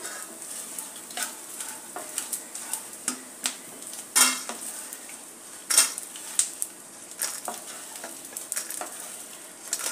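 Edible gum (dink) fries in a pan with a soft crackling sizzle, broken up by sharp clinks and scrapes of a spoon against the pan.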